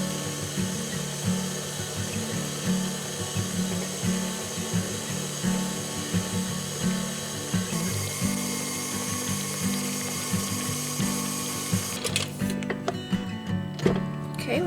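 Electric mixer whirring steadily through cake batter as eggs are dropped in one at a time for a coconut loaf cake, a continuous mechanical drone with rattling beater ticks, ending in a brief clatter.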